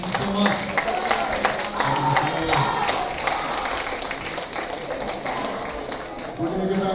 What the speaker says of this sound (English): How about a round of applause for our English department?